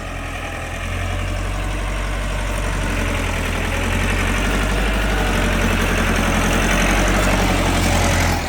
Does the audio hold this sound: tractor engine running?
yes